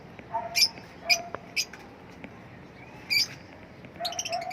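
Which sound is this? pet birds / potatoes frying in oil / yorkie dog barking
pet birds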